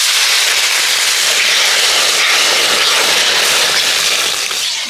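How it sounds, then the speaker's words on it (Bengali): Water pours loudly and continuously over fried red lentils (dal) in a pan for rinsing, a steady close hiss and rush without pauses. "এবার আমি জল দিয়ে ডালটাকে ধুয়ে নেব।"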